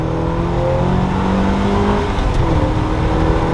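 Porsche 968 with front engine and transaxle accelerating hard from a standstill, a loud steady engine drone that holds strongly throughout, heard from inside the car.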